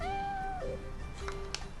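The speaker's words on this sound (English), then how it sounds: "It's a cat." A cat in the video game Innocent Life gives a single clear meow. A few softer, brief sounds follow over quiet background game audio.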